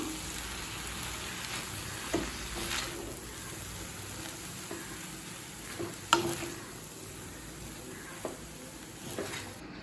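Schezwan fried rice being mixed in a pan, a soft sizzle with a few scattered scrapes and knocks of the utensil, fairly quiet and steady, with no voices.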